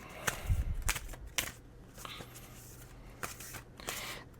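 Tarot cards shuffled by hand in a few quick, crisp riffling bursts separated by short pauses, close and fairly quiet.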